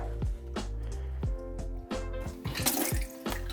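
Coolant pours out of a Mazda Miata radiator once the drain plug is pulled, a steady splashing trickle into a catch pan with a run of sharp drip-like knocks spaced through it, close and fairly clear with no talking.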